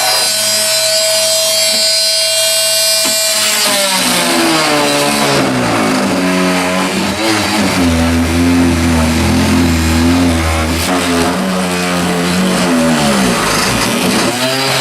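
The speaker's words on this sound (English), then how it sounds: "I'm going to go back to the jigsaw, or the Dremel, sorry, to make that final cut" A Dremel rotary tool cuts through a space saver can installation to free a shelf, a loud, steady whine that shifts pitch through the cut and runs continuously without talk.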